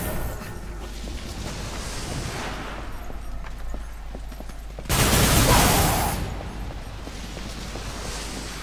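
Gunfire from the video game Darksiders 2 plays continuously, with a dense rumble of shots and a louder burst of blasts partway through, no talking.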